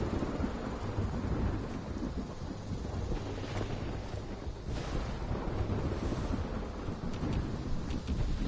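Steady heavy rain and rolling thunder from a thunderstorm in Fallout 76, a dense continuous roar that swells and rumbles throughout, with no voices.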